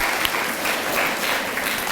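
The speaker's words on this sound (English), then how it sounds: "give yourselves a round of applause" Audience applause at a youth singing event, dense, steady clapping that carries evenly throughout, loud and close with no voices over it.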